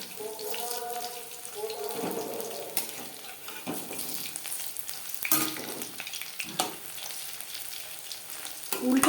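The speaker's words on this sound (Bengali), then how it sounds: "পাকোড়া ভাজবো মিডিয়াম ফ্লেমে" Prawn pakoras fry over medium flame in hot oil, giving a continuous crackling sizzle with occasional clinks and stirring noises, and a person talks briefly.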